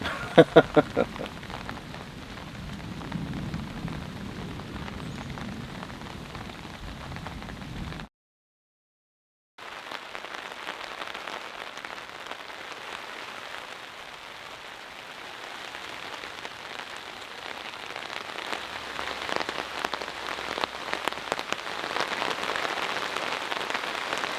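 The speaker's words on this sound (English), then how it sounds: "We've got a good storm overhead, everyone. It is coming down." Heavy rain pours steadily and close, a dense hiss of drops on surfaces, with a brief drop to silence midway before the downpour resumes.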